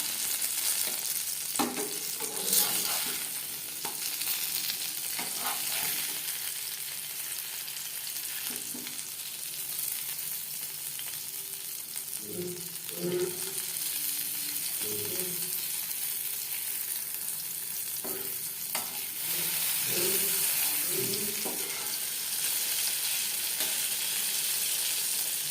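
Eggplant slices fry in a pan with a continuous close sizzle and crackle, marked by occasional soft clinks and scrapes as pieces are turned, with no talking.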